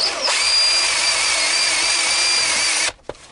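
A power drill cuts through seat foam while fitting a seat armrest in a Hyundai iLoad van, giving a loud, steady high whine for almost three seconds before stopping abruptly, followed by a short clunk.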